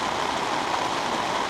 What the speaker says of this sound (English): it belted down with rain